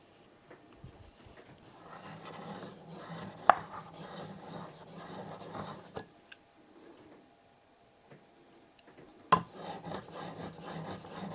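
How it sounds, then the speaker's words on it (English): Low-angle block plane blade rubbed on a diamond sharpening stone, quiet gritty rasping strokes close by, broken by a few sharp clicks and a short pause midway. "This is a diamond stone I'm using because my scary sharpening kit hasn't arrived yet."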